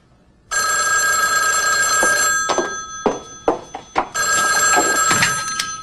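A landline telephone bell rings loudly and alone during a hospital drama scene, a steady trilling ring broken by brief gaps and a few clunks before the ringing resumes.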